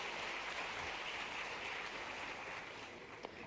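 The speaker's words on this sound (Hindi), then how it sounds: "एक बार जोरदार ताली से हमारा मुख्यमंत्री स्वागत" An audience at an event in a Bhopal convention center applauds to welcome the chief minister, a steady wash of clapping heard at moderate distance throughout, with no speech over it.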